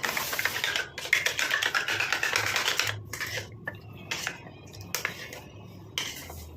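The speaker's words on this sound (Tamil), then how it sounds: "இப்போ இது ரெண்டையும் சேர்த்து நல்லா மிக்ஸ் பண்ணி விட்டுக்கலாம்" Hair dye paste being mixed in a bowl, with a spoon scraping and clinking against the sides in a steady stream of short strokes, close and fairly loud, pausing now and then.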